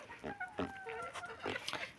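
Several chickens clucking close by, short overlapping calls and squawks in an irregular burst, fairly quiet overall.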